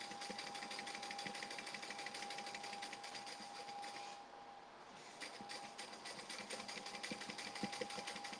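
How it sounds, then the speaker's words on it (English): A sewing machine runs a back stitch at the start of a seam on a Summer Breeze tote bag, a rapid steady whirring patter with a brief pause before it resumes, close and alone. "I am gonna do a back stitch to start"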